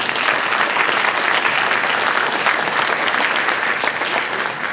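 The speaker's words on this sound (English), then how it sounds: "Please give them a round of applause." Loud, sustained applause from an audience at a high school candidate forum, dense and even clapping throughout with crowd presence and no speech over it.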